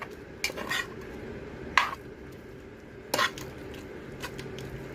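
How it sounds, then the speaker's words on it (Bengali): Mustard greens are stirred in a cooking pan, with three or four sharp scraping clinks of a utensil against the pan over a faint background hiss. "তো আমি আবারও শাক ভালো করে নেড়ে দেব।"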